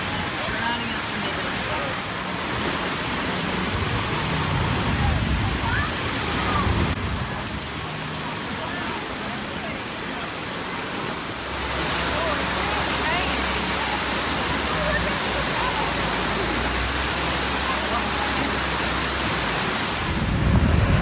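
Water splashes and sprays continuously at an outdoor splash park, a broad steady hiss with a low rumble, faint voices mixed in.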